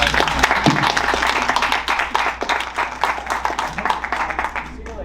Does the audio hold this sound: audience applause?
yes